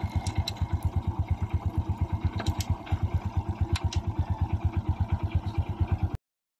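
A Kawasaki Bajaj CT 100 motorcycle engine idles in neutral with an even, rapid low putter, close by and unchanging throughout.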